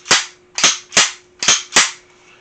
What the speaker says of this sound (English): you can hear the difference in racking the slide of a 1911